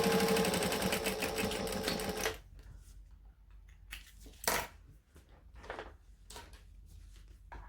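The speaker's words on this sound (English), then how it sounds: "I'm just top stitching 1/8 of an inch from the edge" A sewing machine top stitching close to the edge of a crossbody bag runs steadily and loud for a couple of seconds, then stops, followed by quiet handling clicks and light taps.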